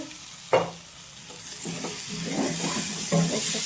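Pointed gourd and potato pieces frying in a pan, a close sizzle with stirring scrapes and a couple of sharp clinks of a spoon against the pan, no voices.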